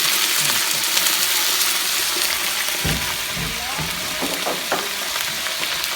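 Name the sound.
food sizzling while frying in a pan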